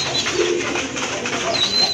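A racer pigeon hen from a loft coos in a brief low rolling call, close and fairly loud, amid other soft bird sounds.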